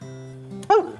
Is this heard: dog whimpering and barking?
yes